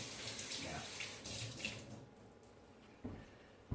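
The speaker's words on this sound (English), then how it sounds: "I'll just give that a quick rinse." A mechanical part being rinsed under a running kitchen tap, with a steady stream of water splashing for a couple of seconds before easing off, followed by a brief knock near the end.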